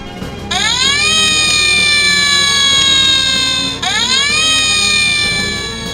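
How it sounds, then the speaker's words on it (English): A toy fire engine siren from a Thomas & Friends toy episode wails loudly and close, rising in two sweeping climbs and holding high between them, with no speech. "Flynn and Bell left with sirens blazing."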